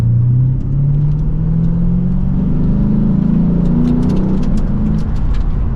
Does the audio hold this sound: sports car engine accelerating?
yes